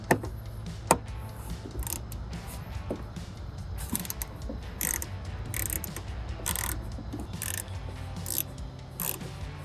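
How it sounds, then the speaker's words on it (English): A 10mm ratchet clicks in quick, repeated bursts while tightening a bolt on an Oracle flush-mount LED tail light on a Jeep Wrangler JL, a close metallic ratcheting with small knocks between strokes. "I'm gonna take 10mm ratchet and tighten the back of the"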